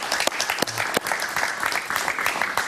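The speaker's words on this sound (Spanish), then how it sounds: "Un aplauso para él, por favor." Studio audience applause on a television talk show welcoming a guest, a loud sustained round of clapping with a few crisp individual claps popping out.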